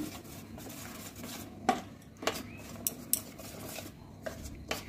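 Chicken pieces being mixed by hand with sattu in a bowl for a restaurant-style chicken chaap, giving soft scraping and rubbing with a few sharp clinks of utensil against the bowl, close and alone.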